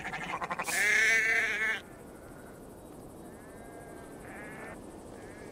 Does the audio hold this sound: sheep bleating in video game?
yes